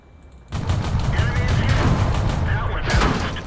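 Rapid bursts of auto cannon fire from a Matilda tank in the World of Tanks video game, a loud dense rattle of shots starting abruptly and continuing with a second surge near the end, with a voice talking over it.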